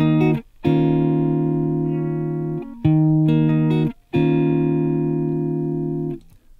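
Guitar plays the first two measures of a song: sustained, ringing chords in several long strums with brief pauses between them, clear and close, with no voice.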